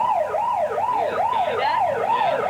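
An emergency vehicle siren wails in Manhattan, loud and continuous, rising and falling in a steady repeating cycle with no speech over it.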